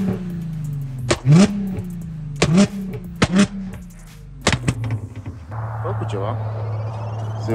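A car with a valved exhaust revs in several sharp bursts, each rising then dropping back, with loud pops between, before settling into a steady idle.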